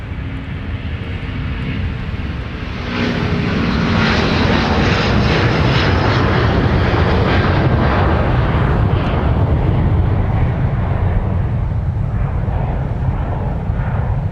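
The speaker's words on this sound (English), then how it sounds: "it's a turn and burn for Delta 258 Heavy to Dublin with the A330-200 now departing 30 left" Delta Airbus A330-200 jet departs runway 30 left at Minneapolis–Saint Paul airport, a loud, broad engine roar that swells into a powerful sustained rumble as the airliner takes off.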